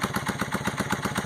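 Honda CM400T twin-cylinder cafe racer running through an MGO cone exhaust, a loud, close, evenly pulsing idle with rapid regular firing beats.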